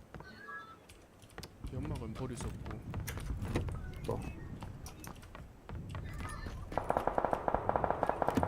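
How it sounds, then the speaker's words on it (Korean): PUBG gunfire in a squad match, a rapid burst of sharp automatic shots near the end following muffled game noise and clicks, with voices talking over much of it. "총알, 총알 그냥 쏴보는 거야."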